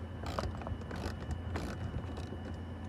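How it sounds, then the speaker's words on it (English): An 8mm socket ratchet unscrewing small bolts while replacing a bulb on a 2018 Jeep Compass, with quiet, close clicking in short bursts over a steady low background hum. "We're gonna use our 8mm socket and just unscrew it."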